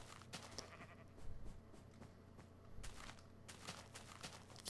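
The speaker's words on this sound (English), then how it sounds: "And there is a sheep." Minecraft sheep bleating in a quiet in-game scene, with faint short calls repeating over a steady background and a few soft footsteps.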